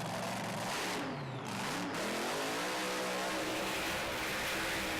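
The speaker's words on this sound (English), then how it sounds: "Well, into the burnouts they go." Drag racing cars at Santa Pod Raceway launching into burnouts during the FIA European Drag Racing Championships, including a supercharged methanol-burning machine, roar loudly and steadily with rising engine pitch and no voices.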